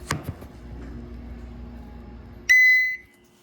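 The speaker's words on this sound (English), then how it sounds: "I got a high quality sample of that beeper" Otis hydraulic elevator beeper, a single loud, sharp electronic beep lasting about half a second after a quiet stretch of faint room noise.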